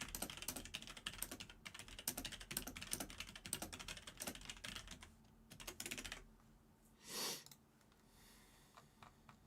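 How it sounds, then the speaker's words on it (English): Rapid typing on a computer keyboard during a chess game, with steady close clattering keystrokes that thin out near the end and a soft breath partway through. "I'm typing in all caps while on chess."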